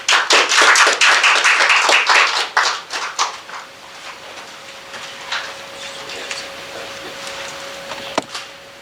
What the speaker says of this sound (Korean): 박수를 보내주시기 바랍니다.